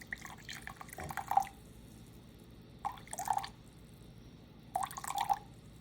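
Water trickles in three short separate pours a couple of seconds apart, each a faint splashing stream for brewing coffee, quiet and close.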